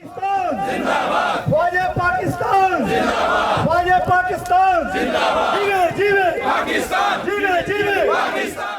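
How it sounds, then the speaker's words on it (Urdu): A crowd at a rally shouts slogans in support of the Pakistan Army, loud massed voices chanting in a repeated call-and-response rhythm, with rising and falling shouted phrases throughout. "پاک فوج کے حق میں فلک شگاف نعرے لگائے گئے"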